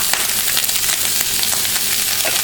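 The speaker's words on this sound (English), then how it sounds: "add your vegetables right to your pan, nice and hot" Fajita vegetables hit a very hot pan alongside steak, giving a loud, close, unbroken sizzle with constant crackling spatter and no speech over it.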